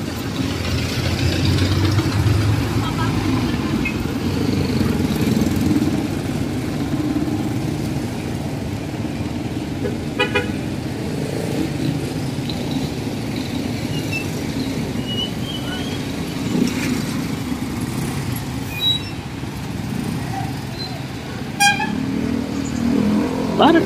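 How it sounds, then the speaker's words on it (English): Morning road traffic in Subic town, with cars and motorcycles idling and passing in a continuous mid-level engine rumble, occasional sharper noises breaking through. "A lot of traffic this time in the morning."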